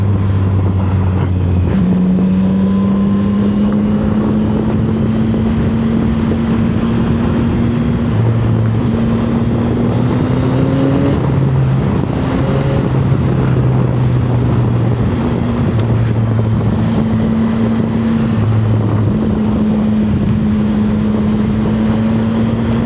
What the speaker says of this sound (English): this is a real fun motorcycle to just drive